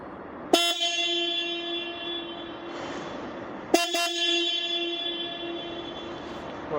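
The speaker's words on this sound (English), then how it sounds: "Well, that's what my horn sounds like now." A motorcycle's stock horn honks twice, two short sharp blasts about three seconds apart, close and loud over a low background hum.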